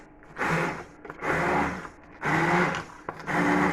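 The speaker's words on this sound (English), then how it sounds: "We'll turn the blender on first." Stick blender pureeing wild garlic bulb soup with onions, four loud whirring bursts of the motor churning liquid, separated by short pauses, close up with no talking.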